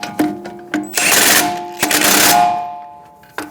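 Impact gun bursts snugging down nuts on the steering knuckle bolts of a 2007-2011 Toyota Camry, several short loud rattling bursts in a row, the longer ones ringing out, with sharp clicks between.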